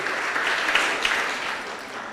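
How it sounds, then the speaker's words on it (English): An audience at the closing ceremony of a science and technology innovation challenge gives a round of applause, steady clapping that carries on without a pause. "Please, a round of applause for her too."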